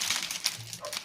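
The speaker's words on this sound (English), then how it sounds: "Hold on, I got a barking dog." A dog barks in one brief, close burst, cut short almost at once.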